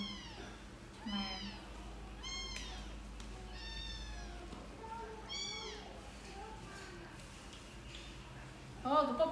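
Baby kittens meow over and over in short, rising, high-pitched cries, a few at a time with gaps between, fairly close and quiet, with a voice briefly at the end.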